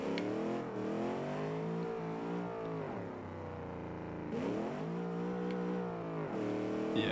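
Group B rally car engine in a racing video game revving hard, its loud, steady harmonic drone sweeping up and down in pitch as it climbs, drops near the middle and surges again with no talk.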